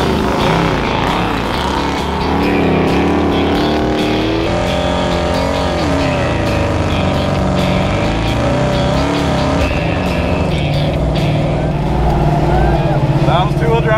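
A wrecker truck strains through a pull in two-wheel drive at a wrecker games competition. The engine roars loud and sustained throughout, its pitch wavering under load, while voices shout over it.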